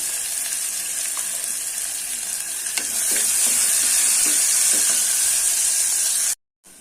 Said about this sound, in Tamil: இப்போது வெங்காயம் பாருங்கள் நல்லா வதங்கிருச்சு